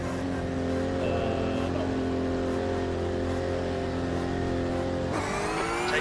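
A steady, droning racing engine in the iRacing sim game hums throughout at constant speed, shifting pitch sharply near the end as it revs, with faint talk underneath.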